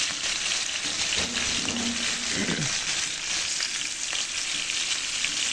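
Chandpur hilsa fish pieces lightly frying in a pan for a thin curry with taro, giving a steady, close oil sizzle with a brief clink of a utensil partway through.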